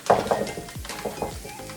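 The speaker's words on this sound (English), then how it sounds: "Now I'm going to throw in the meatless meatballs." Meatless meatballs drop into a sizzling pan with mushrooms, giving a few close thuds and clinks of utensil against cookware over a soft frying hiss.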